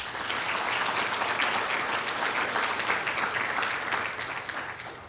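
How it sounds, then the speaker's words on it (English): Audience applause at a police awards ceremony, a steady full round of clapping from a large crowd lasting the whole stretch without pause. "give him another round of applause"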